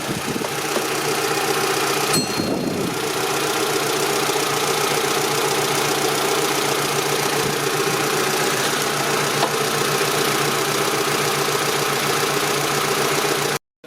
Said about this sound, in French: Le moteur, il tourne.